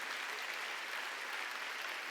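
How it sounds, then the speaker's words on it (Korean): A congregation at an Easter Sunday church service claps in a steady, even wash of applause. The sound is fairly faint and distant and holds unbroken throughout. "박수"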